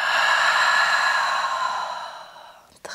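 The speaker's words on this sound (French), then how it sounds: "Ouvre la bouche, expire." A long, loud exhale through an open mouth during a dynamic yoga routine, steady and breathy before tapering off, ending with a brief sharp intake.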